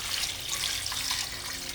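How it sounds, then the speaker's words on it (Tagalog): Water pours steadily into a cooking pot, making a faint, continuous splashing hiss throughout with no talking. "Lagyan natin ng tubig."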